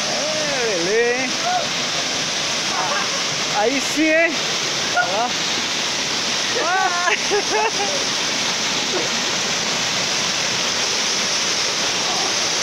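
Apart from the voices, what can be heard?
waterfall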